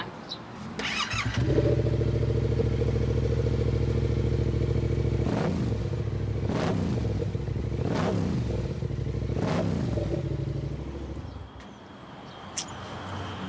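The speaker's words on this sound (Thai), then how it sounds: "เดี๋ยวเรามาฟังเสียงท่อกันหน่อย" A motorcycle engine starts and idles with a deep exhaust rumble, then is blipped through several sharp revs in a row before settling back down.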